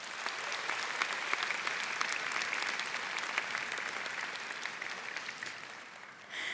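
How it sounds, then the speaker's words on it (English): An audience at a university nursing school spring commencement ceremony applauds with dense, sustained clapping that carries on evenly, then tapers off near the end. "Students, please take this time now to offer a round of applause for those in the audience"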